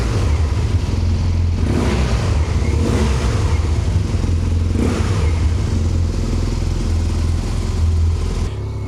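An air-cooled motorcycle engine runs steadily and close by, a low loud rumble with slight swells, briefly surging around the two- and five-second marks.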